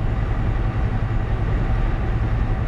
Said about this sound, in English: we're going right along here with the train there up on the left hand side there